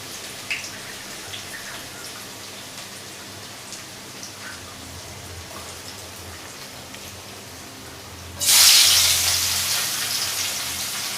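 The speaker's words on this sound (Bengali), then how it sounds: "এখানে চুলায় তেল দিয়ে দেওয়া হয়েছে তেল মনে বেশি গরম হয়ে গেছে কিনা" Oil hits a hot pan on a stove with a sudden loud sizzle near the end, after a stretch of quiet kitchen background hiss, and the bright frying crackle keeps going.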